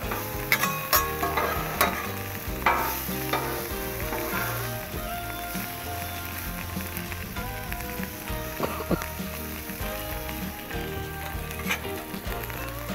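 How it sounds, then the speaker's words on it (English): Seasoned, salted food sizzling on a Blackstone griddle while a metal spatula stirs and scrapes it, a continuous loud fry with frequent clanks and scrapes up close. "Some salt, and let's stir them up real quick"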